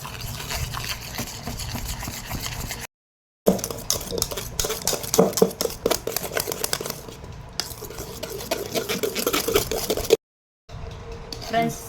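Sugar and eggs being mixed for a vanilla cake batter, rapid rhythmic clinks and scrapes of a utensil against a bowl, close and busy, briefly pausing twice, with a voice talking over it.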